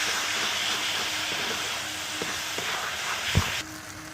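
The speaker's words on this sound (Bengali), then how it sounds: "মশলার থেকে তেল ছেড়ে দিয়েছে আমরা জল দিয়ে দিচ্ছি" Water poured into a pan of frying spiced masala for a fish curry makes a loud, steady hiss and bubbling sizzle throughout, with a few soft clinks and a brief thump near the end as it settles.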